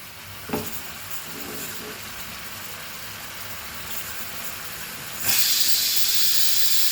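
Anchovy (mandli) fish fry in a pan with a steady close sizzle and hiss, a knock early on, then the frying suddenly swells much louder and brighter near the end.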